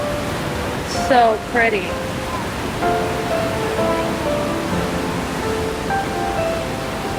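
Avalanche Creek flows steadily beside a wooded hiking trail, giving a constant broadband rush of water with birds chirping faintly over it and a brief remark spoken near the start.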